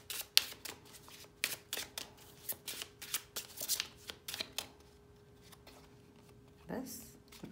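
Tarot cards being shuffled by hand, a rapid run of soft riffling bursts with brief pauses, close by and fairly quiet, ending in a single louder flutter after a short gap.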